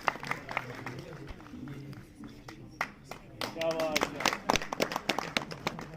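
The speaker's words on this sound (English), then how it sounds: "A big round of applause for Tawhida Yasin." An audience at a school prize distribution ceremony claps, starting as scattered taps and swelling into dense, fairly distant applause, with a voice speaking over the start.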